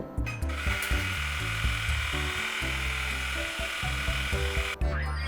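A JUKI LBH-1790AN industrial buttonhole sewing machine runs a stitching cycle, giving a steady close-up mechanical whir with rhythmic needle clatter and a sharp stop near the end.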